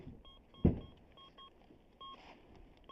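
Short, high electronic beeps from a metal detector repeat at irregular intervals, faint and close, with a dull thump and soft background noise of a forest road.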